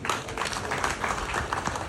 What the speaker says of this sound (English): There's another round of applause for the Right Honourable the Attorney General